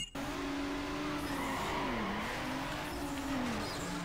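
A car spins out in a racing game, its tires squealing in a long wavering screech over a steady engine drone, fairly quiet and with no talk.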